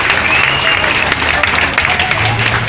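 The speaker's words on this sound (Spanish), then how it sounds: "Vamos a brindarles un fuerte aplauso a estos dos contendientes por esta bonita pelea que nos han regalado." Crowd at an amateur boxing tournament applauding two fighters after a bout, dense clapping and cheering with voices mixed in, loud and close.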